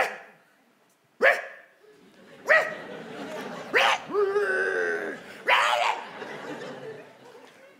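A dog barks several times in short, sharp bursts spaced a second or so apart, some stretched into whining yelps, fairly close and loud against a quiet background.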